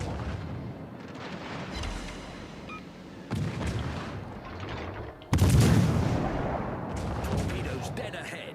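Warship guns fire in a naval combat video game, producing booming broadband salvos in distinct bursts, with one especially loud blast past the midpoint, while a voice talks over the action.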